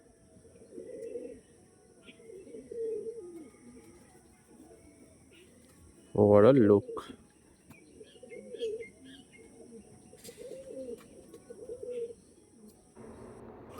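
Pure-breed Andhra pigeons coo in low repeated bursts at close range, with a sharp louder flutter or call midway and a voice briefly speaking.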